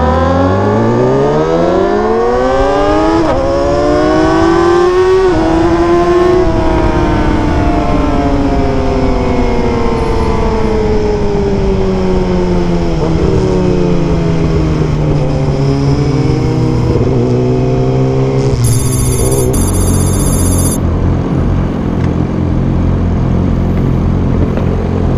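A Yamaha R6 sport motorcycle engine screams loudly while riding, its pitch climbing and dropping through repeated high-revving gear changes.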